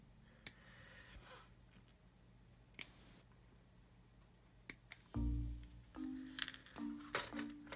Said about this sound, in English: So let's just cut these two off here.